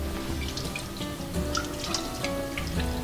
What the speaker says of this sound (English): let's give them a rinse with some cold water